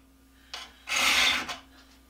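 A diamond sharpener rasps across the carbide teeth of a saw blade: a short scrape, then one longer, louder stroke that fades off, close up in a quiet room with a faint steady hum beneath.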